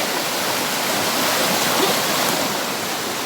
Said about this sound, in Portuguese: Ó, a cachoeira como é top.